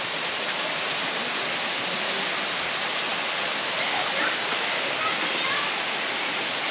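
Waterfalls in Phuket, Thailand, pour in a constant, even roar of falling water, a dense unbroken hiss that stays steady and close throughout with no talk over it.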